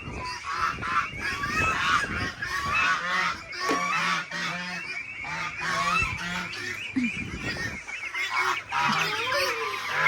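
Loud, repeated honking quacks from several ducks close by, overlapping in busy bursts with no talking.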